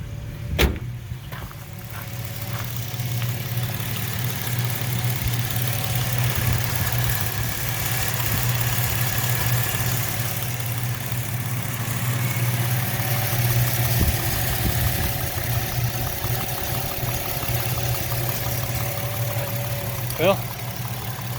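A Ford Ranger's 4.0-liter engine idles at full operating temperature with the thermostat open, a steady low hum running throughout, with a faint knock near the start and another near the end.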